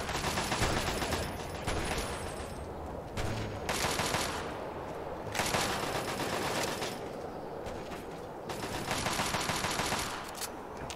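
Sustained automatic gunfire from the video game Fallout 3, long bursts of rapid shots rattling back and forth with brief gaps, loud and dense throughout with no talk.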